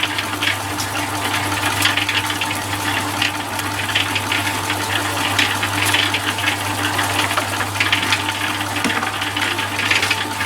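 A concrete mixer drum churns a wet mix of paper, water and leaves for making fuel briquettes, its motor droning steadily and loudly with a continuous low hum and sloshing rumble, no talk.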